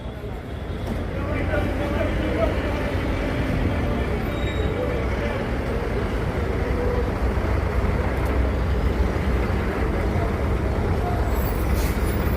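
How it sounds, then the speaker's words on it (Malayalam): Tirur's large, busy bus stand rumbles with idling and moving buses, a continuous low engine roar that holds steady throughout, with faint chatter and the occasional brief hiss of an air brake. "നമ്മളെ തിരൂർ ബസ് സ്റ്റാൻഡാണത്. അടിപൊളി അത്യാവശ്യം വലിയ ബസ് സ്റ്റാൻഡാണത്."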